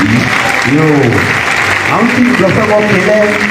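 A church congregation at a Côte d'Ivoire worship gathering in Bouaké bursts into loud, sustained applause, with voices speaking and calling out over the clapping throughout.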